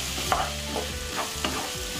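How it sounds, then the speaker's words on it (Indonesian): Cucumber, egg and shrimp sizzle steadily in a hot pan while a spatula stirs through them with a few soft scraping strokes, close and continuous. "Diaduk rata seperti ini, tidak usah terlalu lama"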